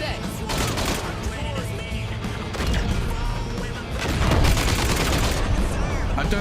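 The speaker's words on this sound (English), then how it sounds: "I don't like how they're like shooting through the tank." Video game gunfire rattles at a tank in dense, continuous volleys with heavy booms, loud and close throughout.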